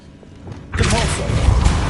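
Spell cast in the game Hogwarts Legacy: a sudden loud whooshing burst that swells into a sustained shimmering rumble lasting over a second, with a voice speaking in the game underneath.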